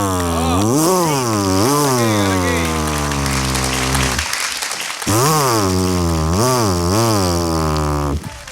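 A man vocally mimics a tree-cutting chainsaw with a loud, harsh whine that rises and dips in pitch across two sustained bursts separated by a brief gap.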